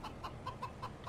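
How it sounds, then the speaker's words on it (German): A rooster in Farming Simulator 22 clucks in a steady rhythm of about six short, evenly spaced notes, faint and close, over a quiet background. "Das ist ein Hahn"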